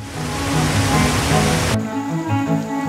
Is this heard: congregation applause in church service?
no